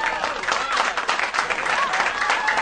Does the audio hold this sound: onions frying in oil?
no